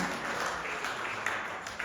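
Congregation clapping together at an Easter Sunday church service, a dense steady wash of applause held at an even level throughout.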